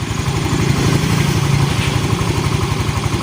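A Yamaha Mio i125 scooter that keeps stalling runs steadily at idle, its close, loud, rapid low putter lasting the whole time with faint clattering on top and no voices.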